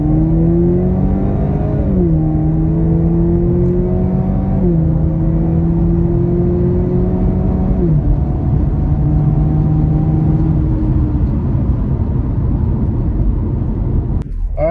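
A 2023 Chevrolet Camaro pulls hard under acceleration, its engine drone climbing steadily through several gear changes, each shift dropping the pitch before it rises again, loud and continuous from inside the cabin, with no talking.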